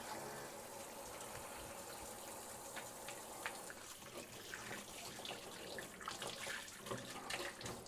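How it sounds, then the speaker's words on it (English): Steady gushing of a kitchen tap as hands are washed under the running water, a continuous broadband rush with small splashes and clatters near the end. "Wash my hands."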